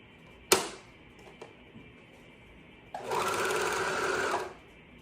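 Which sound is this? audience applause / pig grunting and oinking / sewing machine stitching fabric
sewing machine stitching fabric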